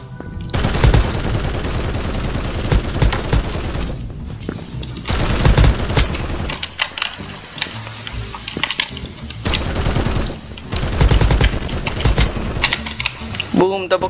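Rapid automatic gunfire in a first-person shooter video game, dense sustained bursts with short pauses between volleys, loud and close, with brief clinks of ejected casings.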